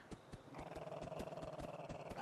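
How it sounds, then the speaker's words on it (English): A dog companion in the video game Fallout London growls low and continuously, a close rumbling snarl that swells after a soft start. "Winston, stop growling."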